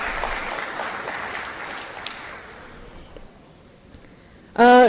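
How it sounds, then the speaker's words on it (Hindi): Crowd applause at a live event at Minto Hall in Bhopal, dense and steady at first, thinning out and fading over a few seconds before a sudden loud tonal burst at the very end. "एक बार पुनः जोरदार तालियां हो जाएं।"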